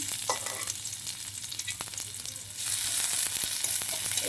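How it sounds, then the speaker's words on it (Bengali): Chopped onion and chili sizzle steadily in hot mustard oil in a home kitchen, a close, continuous frying hiss that swells louder partway through as the pan heats or is stirred. "এটা একটু বাদামি করে ভেজে নেব"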